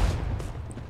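Gunfire in the Rogue Company team deathmatch shooter, a brief burst of a few sharp shots over a booming low thump, loud and close, lasting under a second.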